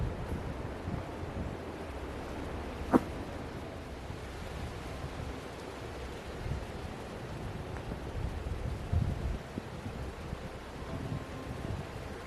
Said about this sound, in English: Sure hear that wind at the higher levels.